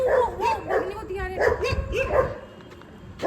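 German Shepherd dog barking close by in a series of sharp barks and yips at an uneven rhythm, fading toward the end.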